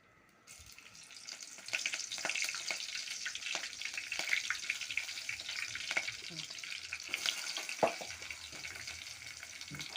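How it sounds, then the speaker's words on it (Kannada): Oil crackles and sizzles steadily as spices hit the pan, with scattered pops and a stirring clatter, close and fairly quiet. "ಇದನ್ನು ಒಗ್ಗರಣೆ ಹಾಕೊಂಡ್ಬಿಡ್ಬೇಕು."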